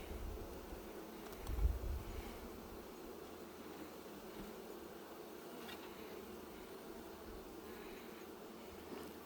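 Honeybees humming in an open hive during an inspection, a faint steady buzz with a brief louder rumble of handling near the start.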